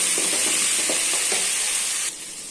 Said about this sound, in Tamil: இப்போ இதை லைட்டாக இது பெரட்டி விட்டுக்கலாம்